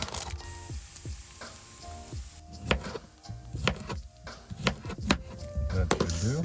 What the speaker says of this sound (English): Now we can add our falafel to the oil.